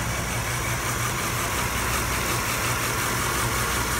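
A 1991 Cadillac DeVille 4.9 liter V8 with 59,000 miles idles steadily on a test stand, a close, even low rumble with constant hum and no talk over it.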